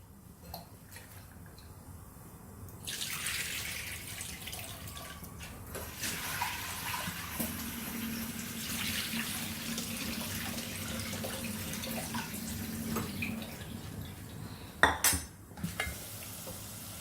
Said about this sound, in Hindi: तब तक हम अपनी दाल को अच्छे से वॉश कर लेते हैं